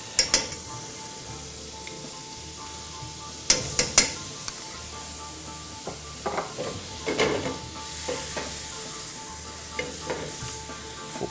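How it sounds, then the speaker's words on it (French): Onions and beef sizzle in butter in pans, a steady frying hiss with occasional sharp clinks and scrapes of stirring utensils against the pan, close and without voices. "On va faire suer les oignons, puis on va commencer à cuire le bœuf dans une autre casserole."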